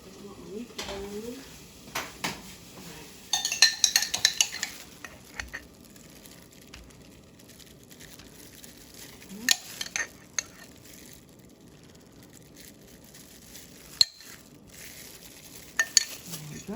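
Ground beef frying in a pan is stirred with a spoon, giving a faint, quiet sizzle with scattered clinks and scrapes of the spoon against the pan, clustered in a few short bursts.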